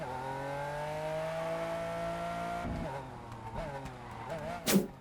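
A Lamborghini engine in the racing video game Solar Crown holds a steady, slightly muted drone, then shifts through quick rev changes and gear changes with brief tire squeal and a sharp burst near the end.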